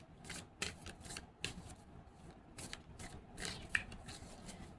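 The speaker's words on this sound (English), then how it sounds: "I feel like I shuffled a lot" Oracle cards being shuffled by hand, a series of crisp riffling and flicking bursts at an uneven pace, close and quiet with no talking.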